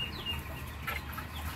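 Low, soft clucking from a single Muscovy duck kept as poultry in a farmyard, steady and close, with light background noise and no talk.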